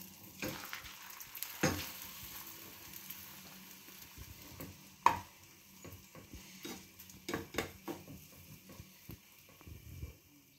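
Eggs fry quietly in a pan, a faint low sizzle broken by scattered clicks and scrapes as they are turned over.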